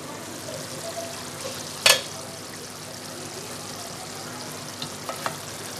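Mutton masala with tomatoes cooked soft is stirred in a pot, a quiet simmering sizzle with one sharp scrape of the spoon against the metal and a few light knocks later.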